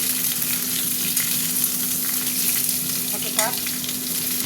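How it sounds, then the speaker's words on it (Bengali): Vegetables for a paneer curry fry in a pan with a strong, close, continuous sizzle, broken by stirring scrapes and a brief clink near the end, with no voice. "সবজিগুলো দিয়ে দিলাম। অল্প রান্না হবে, সবজিগুলো এখন একটু ভাজা ভাজা হবে।"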